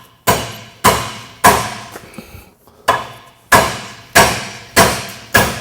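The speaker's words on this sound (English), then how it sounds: "Just knock this pin out." A pin is hammered out of a bushing in a sharp, evenly spaced series of about nine loud metallic blows, each ringing briefly, with a short pause in the middle.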